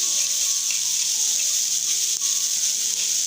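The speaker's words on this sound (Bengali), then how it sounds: "আমি সুন্দর মতন এটাকে কষে নিচ্ছি" Minced meat filling sautéing in a pan, a loud, even hiss of frying that runs unbroken throughout with only faint stirring beneath it.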